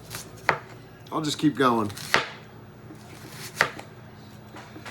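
Knife chopping an onion on a board for chicken burritos, a few sharp separate thuds spaced apart, with someone speaking briefly between the cuts.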